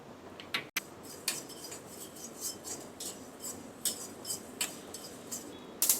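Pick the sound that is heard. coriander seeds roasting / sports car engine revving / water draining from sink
coriander seeds roasting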